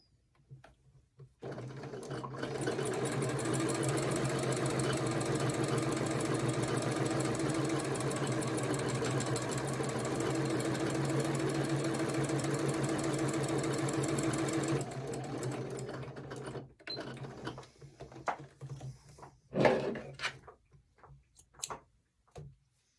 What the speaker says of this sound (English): let's sew this